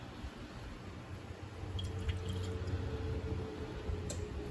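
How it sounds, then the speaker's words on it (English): Grated zucchini wrapped in a paper towel is squeezed by hand, producing a steady, close, wet squishing and crackling as water drips out, with no talk. "I'm going to squeeze all the water, as much of this water as I can out of this zucchini."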